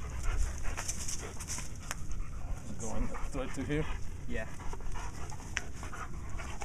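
A dog pants close by in short, rhythmic breaths, with a few soft whimpery sounds, while people talk briefly nearby.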